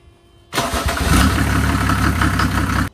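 An old Mercedes OM603 diesel engine with a Holset turbo cranks and fires up abruptly, then settles into a loud, steady, rumbling idle with no talk over it.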